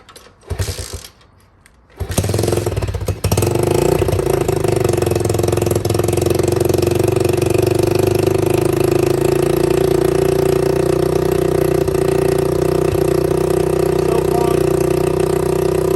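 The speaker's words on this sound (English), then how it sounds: "I'm going to demonstrate a cold start, how it sound" An Apollo 125cc dirt bike cold-starting after a couple of sputtering attempts, then settling into a loud, steady, buzzy idle held close for a long unbroken run.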